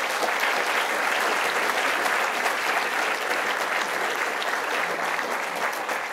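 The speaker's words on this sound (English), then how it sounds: "Big round of applause for all of them." An audience gives a panel of speakers a full round of applause at a talk event, a dense, even wash of many hands clapping that holds steady from start to finish.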